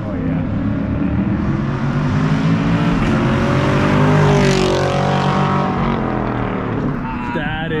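A Chevrolet Camaro SS with a Corsa cat-back exhaust roars past in a loud flyby, the engine note climbing and swelling to a peak as it passes, then fading away.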